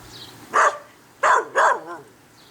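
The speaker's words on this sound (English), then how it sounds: "the dog's still not happy about it" A dog barks three times in close succession, loud and near, the sharp barks separated by short pauses and trailing into a softer whine at a West Texas lake camp.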